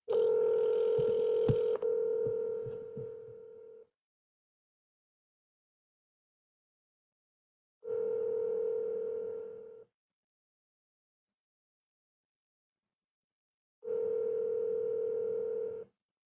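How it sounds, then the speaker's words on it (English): Telephone dialing to a 310 area code in California: a steady dial tone with brief keypad beeps, then two separate ringback tones spaced several seconds apart with silence between, clean and close. "I'm dialing it."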